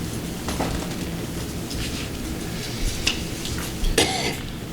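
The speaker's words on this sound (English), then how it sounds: "Sorry, I coughed." A few short coughs break through a noisy room background, the loudest near the end.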